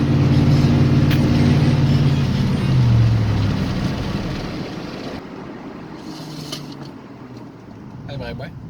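A heavy pickup truck engine revs and pulls away, a loud low rumble with rising pitch early, then easing into steady road and tire noise as it drives on gravel, with brief voices near the end.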